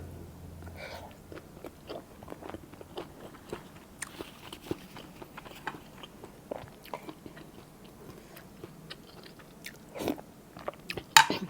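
Someone eats bamboo shoot curry with pak kayaeng herb and red ant eggs, making close, intermittent bites and crunchy chewing over a quiet background. The bites cluster more densely toward the end.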